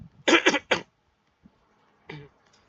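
Three quick coughs in a row, close and sharp, then a faint click and one softer cough after a pause.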